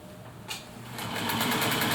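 A Singer Featherweight sewing machine stitching long fabric strips, starting with a tick and then running in a steady, fast mechanical whir of needle strokes that grows louder and continues alone.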